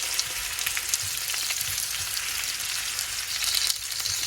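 Potatoes fry in hot grease in a cast iron skillet at a deer camp cookout, giving a steady close hiss and crackle with occasional stirring scrapes and no talk.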